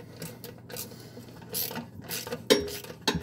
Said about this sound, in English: This ratchet is awesome. The handle turns on it and it turns the socket.